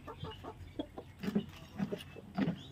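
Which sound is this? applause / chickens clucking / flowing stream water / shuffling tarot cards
chickens clucking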